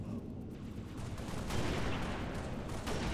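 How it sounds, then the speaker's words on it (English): Sustained, dense rattle of Halo: Reach gunfire and blasts, rumbling without a break. "Gunfire."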